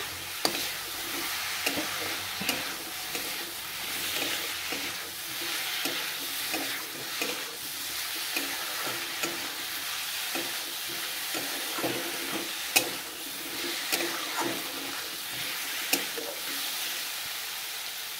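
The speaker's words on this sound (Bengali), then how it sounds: "আলু মশলা পেস্ট সবগুলো একসাথে ভালোভাবে ভাজুন।" Potatoes and spice paste are stir-fried in oil in a pan for a Bengali banana-flower kofta curry, with steady sizzling and repeated scraping stirs of a spatula close by and no talk.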